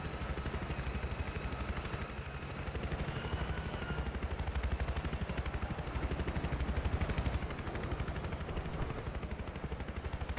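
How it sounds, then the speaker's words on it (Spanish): Helicopter in the Battlefield 4 video game, a continuous rotor drone with steady chopping pulses running throughout, mixed with game noise and possible distant gunfire, with no talk. "Este cabrón helicóptero"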